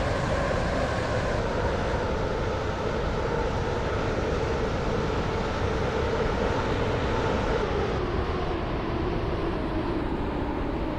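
A train in the Roblox game Stepford County Railway running toward Connolly station, a steady loud rumbling drone of wheels and motor with a slowly shifting tone and no voices.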